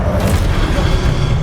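Confringo, a fire spell in the video game Hogwarts Legacy, explodes in a dense, loud, rumbling boom that roars continuously through the short moment, close and heavy with low-end energy.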